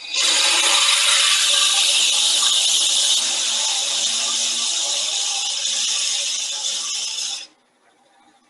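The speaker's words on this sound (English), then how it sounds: "Now this will be a pretty easy drill because this wood is soft and it's old and dry." Power drill boring steadily through soft, old, dry wood, a loud continuous whine with grinding texture for about seven seconds before cutting off abruptly, leaving near silence.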